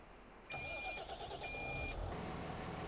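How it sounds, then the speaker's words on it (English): A front-loader T7 series tractor with no PTO starts with a brief cranking whine, then its engine catches and settles into a loud, steady idle nearby. "Let's go ahead and start her up."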